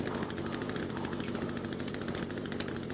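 Chainsaw in The Forest, a steady loud buzzing drone with a rapid rattle and no pauses, running close by.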